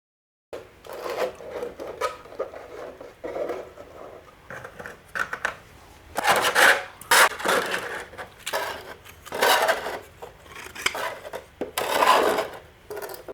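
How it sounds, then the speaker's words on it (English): A screwdriver drives screws through storage compartments into a wooden board, giving repeated close grinding, rasping bursts of a few seconds each, separated by short pauses. "I ended up screwing nearly every compartment."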